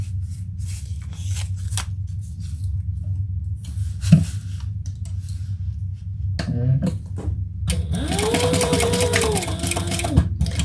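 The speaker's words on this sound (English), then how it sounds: "we're going to sew that together at the seam allowance in the pattern" A sewing machine runs in short bursts to stitch a seam, with quick mechanical whirring and clicks separated by pauses and handling of the fabric.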